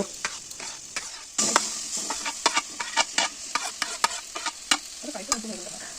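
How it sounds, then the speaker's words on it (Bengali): Mashed roasted eggplant and spice mix are stirred in a hot pan, a steady run of scraping strokes and clacks over a soft sizzle, close and moderately loud, with no talking. "ম্যাশ করা বেগুনের সাথে ভালো করে মশলাটা মিশিয়ে নিতে হবে"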